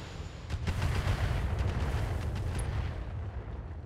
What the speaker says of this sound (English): these are turrets that are shooting at me right now.